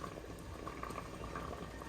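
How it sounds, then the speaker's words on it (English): Jars of hot peppers boiling in a water bath for canning, a steady close rolling bubble with dense popping and gurgling throughout, no voices. "You're going to boil them, make sure they stay covered in water."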